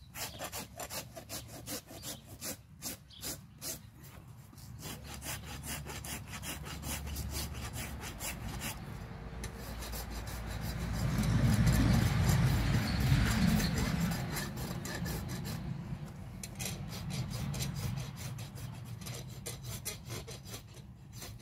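Hoof rasp working over a horse's hoof during a finishing trim, a steady run of close, dense scraping strokes that swells louder in the middle and carries on without talk.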